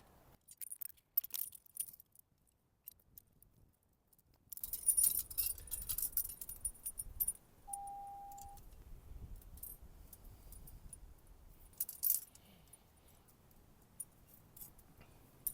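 Small metal M5 nuts and bolts clink and rattle faintly while being handled to attach a fire extinguisher bracket in a Toyota Yaris GR, in scattered short jangles with quiet gaps and a brief tonal squeak.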